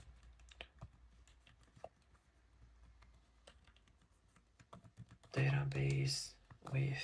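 Quick, light keystrokes on a computer keyboard tap out an irregular run of soft clicks for several seconds, ending in a louder, busier burst near the close.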